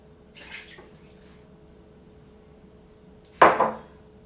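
A brief splash of water poured into a bowl comes near the end, after a faint clink and a quiet pause.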